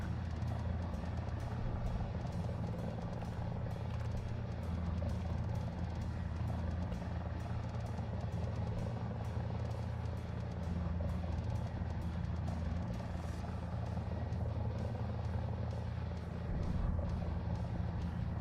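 An Mi-35 attack helicopter close by in the War Thunder combat game, its rotor and engine making a loud steady low drone that fills the whole stretch with no break.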